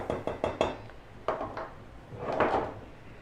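Dry cocoa mix ingredients, cocoa powder, powdered milk and salt, dumped into a container in a kitchen, giving several sharp knocking and clattering hits followed by a softer, longer rush of pouring with no talking.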